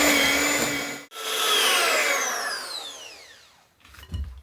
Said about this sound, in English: I might have to go get my blender out